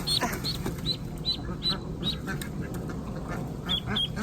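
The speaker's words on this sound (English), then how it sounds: "The Pekins are the Cornish cross of ducks." Pekin ducks quack in short repeated bursts while splashing in fresh water, a steady series of nearby calls over a rough, noisy outdoor background.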